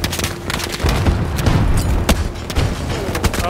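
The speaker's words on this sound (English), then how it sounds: "Grenade out!" A grenade explosion in the Battlefield 2042 video game, set amid loud, dense battle noise: a heavy boom with sharp bursts of gunfire and cracks crowding the mix throughout.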